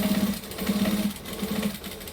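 A sewing machine stitching a drawstring bag, a steady close mechanical hum pulsing in short runs with brief pauses between.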